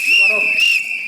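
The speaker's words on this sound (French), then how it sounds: "Qui a sifflé?" Someone in the audience of a French morning TV quiz show gives a single sustained, shrill whistle lasting about a second, loud and close with a slight wavering pitch.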